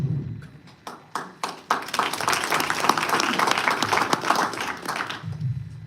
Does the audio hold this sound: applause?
yes